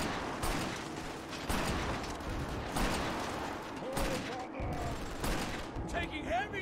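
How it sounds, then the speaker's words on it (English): Enemy gunfire in Killzone 2, fired from above: repeated bursts of loud, sharp, rapid shots in a steady rhythm, with a mechanical clatter between the bursts and a voice speaking briefly near the end. "There's a guy up top who's shooting me."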